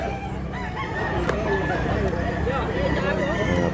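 A year-old Hennei hatch rooster crows amid a busy market at Mantalungon, Barili, Cebu, its call rising over steady crowd noise while someone talks close by.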